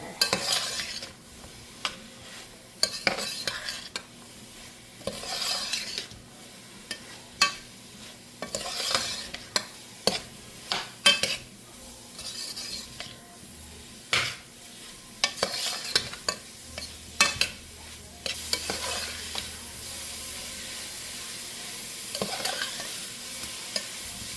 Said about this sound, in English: So basically we're stirring this until it browns all together.